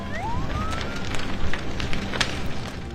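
A house burning in a California wildfire, with a dense, roaring crackle of flames close by and a siren wailing briefly in the distance at the start.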